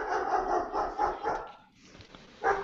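A dog barks in a rapid run of several yelps, then pauses briefly and gives one more bark, close and fairly loud with no talk.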